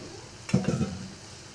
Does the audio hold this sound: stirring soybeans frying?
yes